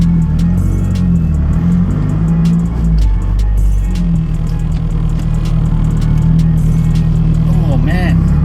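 Mazdaspeed 3 fitted with a BNR S5 turbo pulls hard inside the cabin, a loud steady engine drone with rising harmonics and some rattle, heard on a first drive after winter storage.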